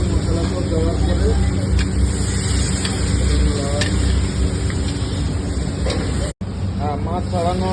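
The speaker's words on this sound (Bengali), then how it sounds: "মাছ ছাড়ানো হচ্ছে তেলে, গরম তেল।" Fish goes into hot oil in a pan with onion and spices for a pointed gourd and potato fish curry. The sizzle is loud, steady and close, a dense crackling hiss that drops out for a moment near the end, with a voice talking over it.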